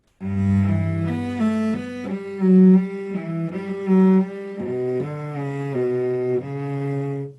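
A cello plays a slow, sustained melody of connected notes, gliding smoothly between pitches with a shift into second position, clear and close with no talking.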